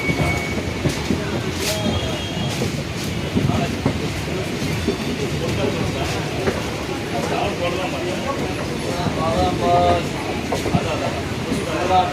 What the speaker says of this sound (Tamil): பாருங்க எப்படி வண்டி திரும்புது பாருங்க.